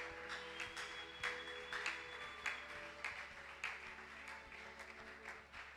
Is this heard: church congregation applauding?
yes